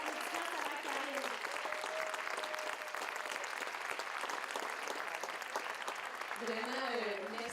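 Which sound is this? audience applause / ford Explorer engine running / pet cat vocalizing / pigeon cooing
audience applause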